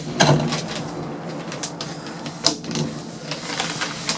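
A lift's safety brake mechanism clatters in rapid mechanical ticks and rattles, with a sharp louder click partway through, heard close and alone.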